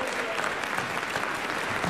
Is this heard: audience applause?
yes